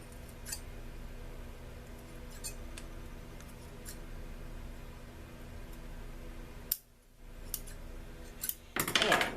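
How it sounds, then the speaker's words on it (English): Scissors trim excess resin off a homemade resin bangle bracelet, giving a few faint, scattered snips and clicks against quiet room noise. "I'm just going to get some scissors"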